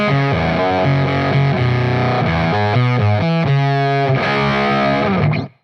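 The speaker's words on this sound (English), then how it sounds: "But I have my hyper fuzz pedal, so let's try it." Electric guitar played through a hyper fuzz pedal, a thick, saturated riff of stepping sustained notes, loud and close, cutting off abruptly at the end.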